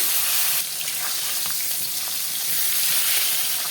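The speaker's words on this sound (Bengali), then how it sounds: "আমার মাছটা লাল করে ভাজা হয়ে গেছে তুলে নিচ্ছি বাকি মাছগুলো ভেজে নেব" Bhola fish frying in hot oil in a kitchen pan, giving a steady hiss and crackle that carries on alone for the whole stretch with no talk.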